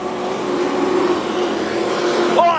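Speedway race cars at Carina Speedway roar hard into turn 3 during an AMCA Nationals final, a loud sustained engine drone with a brief rising rev near the end.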